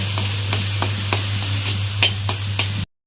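Fenugreek greens sizzle in a pan with a steady crackle, broken by a series of sharp, regular stirring scrapes that come roughly every third of a second over a low electrical hum, then stop abruptly.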